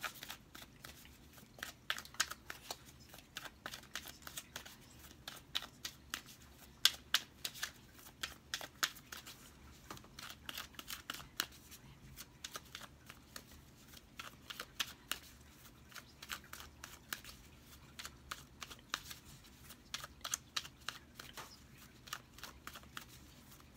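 Tarot cards are shuffled over and over in quick, soft riffles, a steady crisp flutter close by with no talking.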